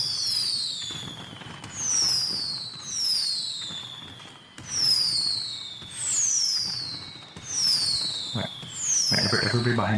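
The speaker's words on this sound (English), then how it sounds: "Everybody get up here and start releasing the fireworks." Fireworks launched in GTA Online: a run of about seven whistling rockets rising in sweeping tones, each ending in a pop or crackle, spaced every second or so, fairly loud, with a burst of crackling at the end.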